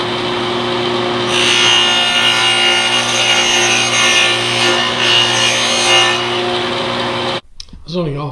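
A saw cuts into wood during a drawer repair, a close, steady rasping whine that swells and eases over about six seconds before cutting off, followed by a brief voice.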